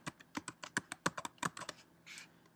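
Quick, uneven taps on a Mac computer keyboard type out a name, a string of soft, close clicks with short pauses between bursts and no voice over them.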